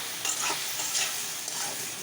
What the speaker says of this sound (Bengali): এই দেখো বটটা মশলা দিয়ে কষিয়ে ভাজা ভাজা করতে হবে।